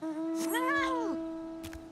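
Plump cat mount from Final Fantasy XIV giving a single drawn-out, rising-then-falling meow over a steady background hum, with a faint short chirp near the end.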